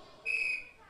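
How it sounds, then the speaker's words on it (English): A single short, shrill whistle blast, loud and close, lasting about a third of a second. "blow the whistle one more time"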